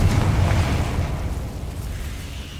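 A Confringo blasting spell from the Hogwarts Legacy video game bursts into a loud, deep explosion, then a rumbling roar that slowly fades.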